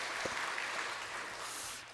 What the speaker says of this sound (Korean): 우리 격려와 축복의 박수 할까요?